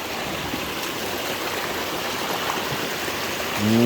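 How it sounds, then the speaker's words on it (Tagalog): Steady, broadband rush of the Simong River flowing over rocks, heard close and continuous with no voices; a brief louder swell comes near the end. "This is Simong River."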